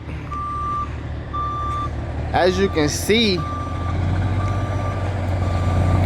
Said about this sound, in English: I have a tow truck right here to come and pick up this truck